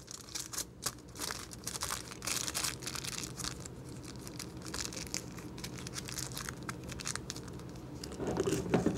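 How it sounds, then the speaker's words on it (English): Aluminum foil crinkles and rustles as it is handled and pressed into a glass jar over cotton balls, a steady close crackling texture with sharper crunches that swell louder toward the end. "Place a piece of aluminum foil"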